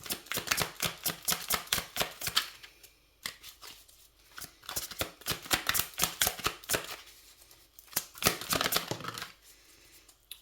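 Tarot cards being shuffled and drawn in quick, rippling bursts of crisp flicks, pausing briefly between rounds, close and fairly clear with no talking.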